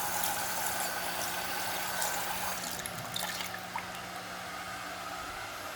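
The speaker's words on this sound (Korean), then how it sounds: "계속 똑똑 떨어지게 틀어놓고 그렇게 지냈습니다" Cold water trickling steadily from a faucet left open during a freezing spell, a constant close hiss of running water without pause.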